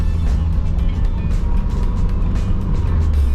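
Ford Mustang SVO under way, a loud, steady engine drone and road rumble heard from inside the car for a few seconds, with no clear gear change audible.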